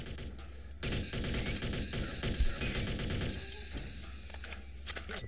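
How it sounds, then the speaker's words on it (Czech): Rapid gunfire fills a firefight in the Alpha Prime video game. Dense automatic bursts go on almost without a break, then thin out into scattered shots, loud and close, over a steady electronic hum. "Tady někde ještě někdo střílí."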